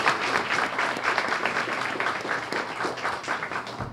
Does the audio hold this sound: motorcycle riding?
no